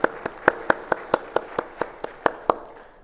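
Audience applause for a conference organizer, heard as about a dozen distinct, evenly spaced claps, sharp and fairly close, with no voices over them.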